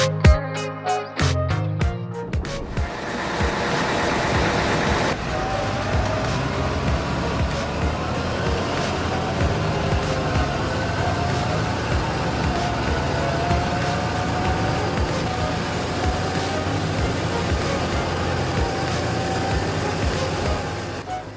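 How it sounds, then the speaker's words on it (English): A John Deere tractor engine labors as it drags through thick swamp mud with help from a second tractor, a loud continuous rumble that holds steady after a few sharp knocks at the start. "With the help of another tractor, along with the power and the right direction of the John Deere, it crossed the swamp like no barrier."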